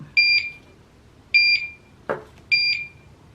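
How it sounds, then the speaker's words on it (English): Three high electronic beeps from an IV infusion pump repeat at even intervals, with a short clack between the second and third, amid other pumps. "I'm surrounded by beeping pumps."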